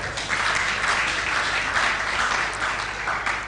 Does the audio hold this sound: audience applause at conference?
yes